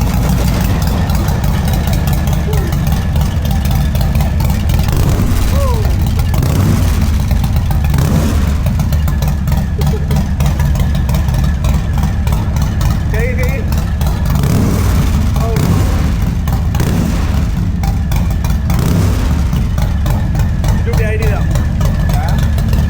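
Harley-Davidson Breakout 114 motorcycle with a Stage 2 tune, its engine and exhaust holding a deep, steady idle rumble throughout, close and loud, with faint voices underneath.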